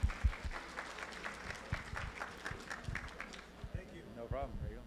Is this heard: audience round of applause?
yes